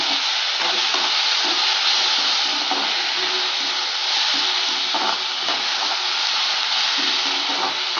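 Onions and tomatoes for brinjal chutney sauté in a pan, an even, dense sizzle with soft periodic stirring scrapes, steady and close for the whole stretch without any talking.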